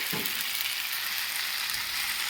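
Tangra fish sliding into masala that has been sautéing on medium heat, setting off a steady sizzle and frying crackle that runs evenly throughout, with no one talking.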